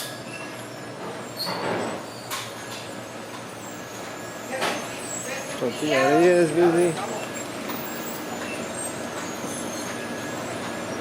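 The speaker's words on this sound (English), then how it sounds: "Gas truck is here." A gas delivery truck rolls along a street in Mazatlan on a Saturday morning, its engine rumbling steadily under the street noise. A brief rising, wavering tone stands out midway, and a person speaks briefly.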